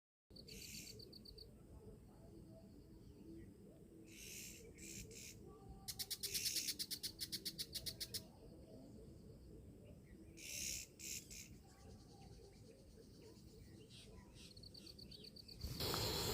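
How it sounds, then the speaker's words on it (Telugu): Birds calling in the morning around a village campsite: repeated bright chirps and trilling bursts come and go over a faint steady insect hum, moderately close and with no talk. "భలే ఉంది కదా పక్షుల శబ్దాలు మార్నింగ్."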